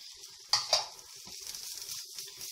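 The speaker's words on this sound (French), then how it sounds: "on va mélanger comme ça, on va dire encore 5 bonnes minutes pour qu'au moins on ait la cuisson donc des oignons, des ciboulettes" Onions, chives and chili being stirred in a frying pan, with two sharp utensil scrapes near the start followed by a soft, continuous sizzle, close up and without talking.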